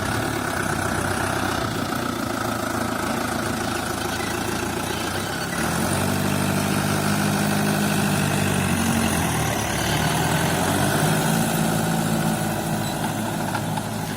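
A Tümosan 7480 diesel tractor with a turbo idles throughout, a low continuous rumble with a slight change in pitch partway through.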